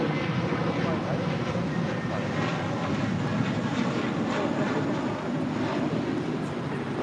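American Airlines Airbus A321 jet departing LAX for Phoenix, a loud continuous broadband engine roar sustained throughout, heard from airport surroundings.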